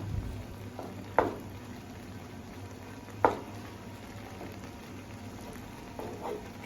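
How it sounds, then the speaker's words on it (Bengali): Maggi noodles boil in water in a pot on a gas stove at low to medium heat, giving a steady soft bubbling with two sharp clicks and a few lighter taps, no voices. "কিছুক্ষণ ফুটার পর ম্যাগিগুলো নিজে নিজেই এইভাবে ছেড়ে আসবে"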